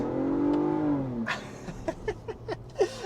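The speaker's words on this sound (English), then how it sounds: "the exhaust sound is pretty cool" A Ford Bronco Raptor SUV engine revs while accelerating, then pops and crackles through the exhaust in several sharp bursts, loud and close, with no talking.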